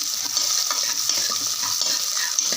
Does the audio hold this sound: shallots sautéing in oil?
yes